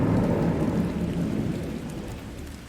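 Steady heavy rain with rumbling thunder fills Thunder Cave in the video game MallQuest, loud at first and easing slightly, with no voices.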